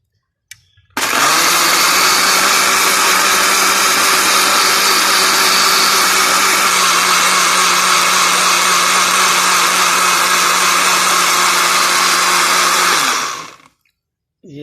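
An electric mixer grinder with its lid closed blends water into a home heartburn remedy drink. A loud, steady whirring drone starts abruptly, holds evenly for about twelve seconds, then winds down, with no voices over it.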